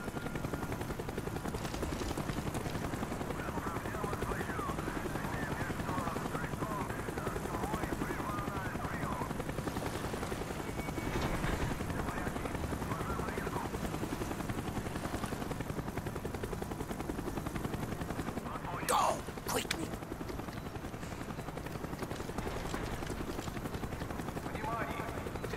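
A helicopter in the Call of Duty: Black Ops video game drones steadily beneath loud in-game combat noise, with talking over it and a brief sharp burst near the end.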